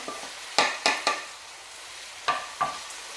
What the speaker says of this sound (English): It's cooking. It's popping.